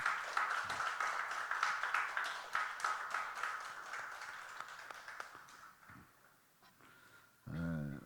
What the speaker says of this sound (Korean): 우리 박수를 한번 격려드려요